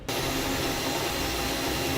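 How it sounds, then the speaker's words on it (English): A power drill bores holes for a Curt custom fifth wheel installation kit on a Chevy/GMC pickup, giving one steady, loud, continuous whirring grind that runs without pause. "we'll drill out our holes"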